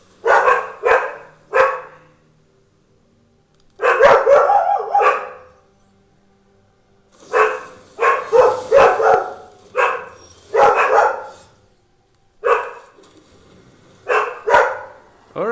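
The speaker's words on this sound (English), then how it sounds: "Sorry about my dogs." Dogs bark repeatedly in loud, close bursts spread across the whole stretch, with short yips mixed in and quiet gaps between the volleys.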